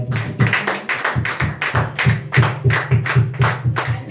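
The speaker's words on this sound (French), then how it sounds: "est-ce qu'on peut applaudir fortement pour ce Père?" Members of a church congregation clap in a slow, heavy rhythmic beat, about two thumping claps per second, close and resonant, with little else audible around them.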